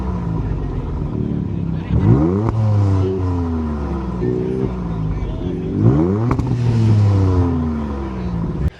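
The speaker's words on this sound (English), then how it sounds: "that rear bumper has the dual outlet exhaust, which has been tuned to give you a meaner sound" A 2027 Dodge Charger Super Bee engine revs hard several times, rising and falling in pitch with a deep throaty rumble from its tuned dual-outlet exhaust, close by.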